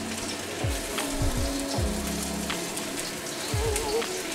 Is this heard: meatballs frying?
yes